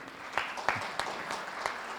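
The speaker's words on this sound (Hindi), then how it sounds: "ये तालियां मेरे माता पिता के" Faint, scattered audience applause rises in a room, with a handful of sharper individual claps standing out over a soft, distant patter of many hands.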